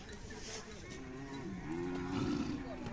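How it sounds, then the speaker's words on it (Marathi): A seven-month-old Khillar bull calf moos at a livestock market fair in Piliv, Malshiras, Solapur, giving one long, low, drawn-out call that rises toward the end over a murmur of background crowd noise. "7 महिन्याचं खोंड आहे."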